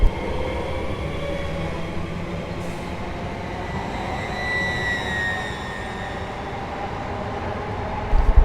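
The electric traction motor of a Class 805 Evero train in Train Sim World 6 hums steadily under rolling rail noise, with thin whining tones gliding up as it accelerates, continuous and unaccompanied by speech.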